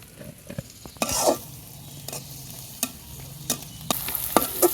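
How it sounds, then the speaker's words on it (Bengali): Onion and spice paste frying in leftover fish-frying oil for a Bengali climbing-perch curry, with a soft sizzle under several sharp stirring scrapes and clacks of a utensil in the pan, close by. "এখানে মাছ ভাজার তেলে পেঁয়াজটা দিয়ে দিছি"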